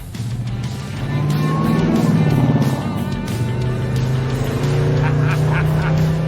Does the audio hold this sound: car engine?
yes